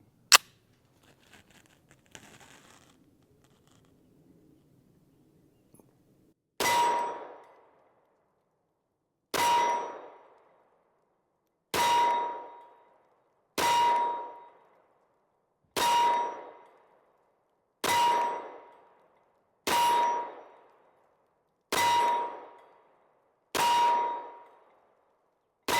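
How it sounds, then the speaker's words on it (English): A CZ P09C Nocturne pistol is fired about ten times at the center of a target in a string of 15 rounds, each loud sharp report ringing briefly. The shots are evenly paced, about two seconds apart, with no talking. "15 rounds, shooting for the center of the target with the CZ"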